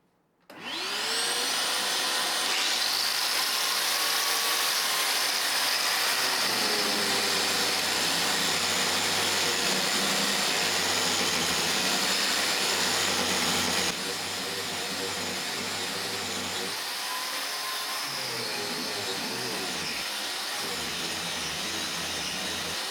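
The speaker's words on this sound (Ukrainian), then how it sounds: "Ось такий маленький, простенький пилососик." A small, simple vacuum cleaner attached to a hose in a workbench setup switches on and runs with a loud, steady whooshing hiss for about twenty seconds, its pitch shifting slightly partway through.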